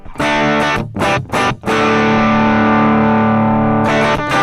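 Loud, fuzzy distorted electric guitar playing a few choppy stabs, then a long sustained buzzing chord before another burst at the end.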